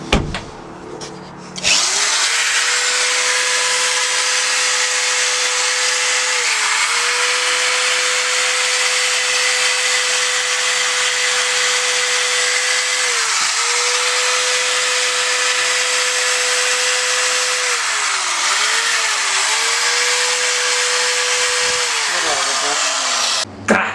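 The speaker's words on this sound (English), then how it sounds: "getting your grinder and just running it over it with like a really high grit, just so there's no scratch marks" A handheld grinder fitted with a high-grit disc runs steadily over a surface to smooth out scratch marks before painting, giving a loud, continuous close-up whine for over twenty seconds with slight dips in pitch as pressure changes.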